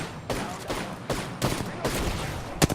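Gunfire in the battle royale game Apex Legends, a series of rapid, punchy shots in irregular bursts, close and fairly loud against steady game ambience.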